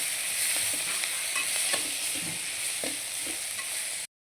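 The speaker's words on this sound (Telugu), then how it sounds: "పుదీనా కొత్తిమీర అనమాట మరి మంచిగా ఫ్రై అవ్వాలి ఆయిల్" Mint and coriander leaves with tomato pieces fry in hot oil, giving a steady, close, bright sizzle with faint stirring scrapes underneath, continuing evenly until it cuts off abruptly.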